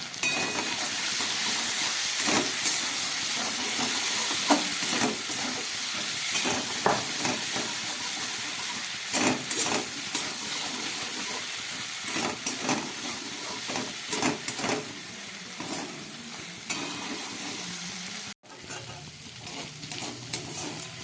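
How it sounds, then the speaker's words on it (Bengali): Sliced potatoes with ground poppy seed paste and green chillies sizzle steadily in a pan, a constant close hiss of frying broken by the scrape and clatter of stirring. "পোস্ত দেবার পরে দেখুন পুরো ভাজা হয়ে গেছে আলু আর পোস্ত"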